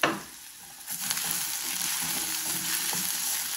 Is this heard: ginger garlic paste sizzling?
yes